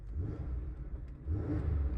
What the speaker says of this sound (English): And it revs up smooth.